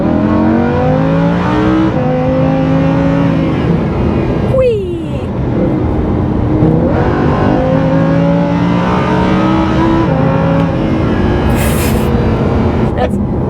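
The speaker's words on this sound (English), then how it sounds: "Fun to accelerate in it, which is the whole point." Lamborghini Huracan engine revving hard through successive gears, loud rising pitch sweeps with brief dips at shifts, heard from inside with people talking over it.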